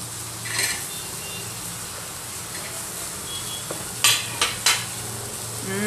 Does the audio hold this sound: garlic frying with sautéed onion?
yes